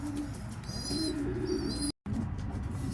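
Racing pigeons coo steadily in a loft, low throaty calls repeating close by, with brief higher chirps over them and a short dropout near the end.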